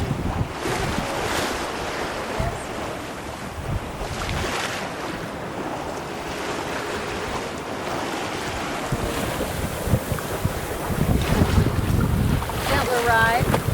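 A sailboat under way at about 4.5 to 6.5 knots, hull rushing through the water with waves splashing and strong wind buffeting the microphone, continuous and loud throughout.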